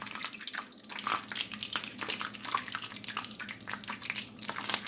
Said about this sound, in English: See how the sizzling's starting to slow down?